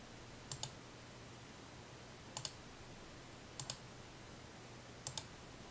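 Four faint double clicks of a computer mouse, evenly spaced apart in a quiet room.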